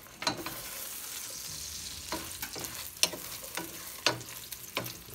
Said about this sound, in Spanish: Voy a ponerle un poquito de aceite para dorarlos.